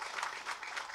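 An audience at a film press meet applauds, a brief steady wash of clapping hands at moderate volume with no voices over it.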